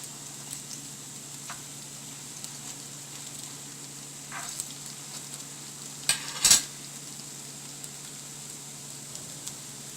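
Tofu koftas frying in oil in a pan, a steady low sizzle with scattered crackles and a louder pop or scrape near the end.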